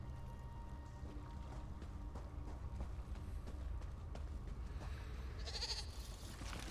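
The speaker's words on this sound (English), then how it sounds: "Look at all the sheep." Sheep bleat in The Elder Scrolls Online game, faint calls over a low ambient game background with light footstep-like clatter.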